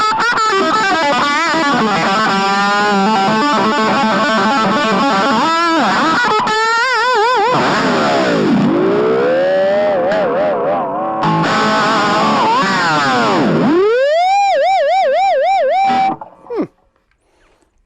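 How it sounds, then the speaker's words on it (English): A Blackstar Fly 3 mini guitar amp at maxed gain and volume howls with loud feedback squeal, sustained distorted tones swooping and wavering in pitch for about sixteen seconds before cutting off abruptly. "Let's see if we can actually get some decent dime squeal here."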